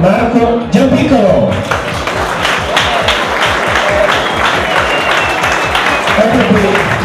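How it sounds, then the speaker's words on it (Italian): Loud, close audience applause at a snack-themed trophy event, with dense clapping over rhythmic thumping music and some voices mixed in. "E vi chiedo un grande applauso per Marco Giampiccolo."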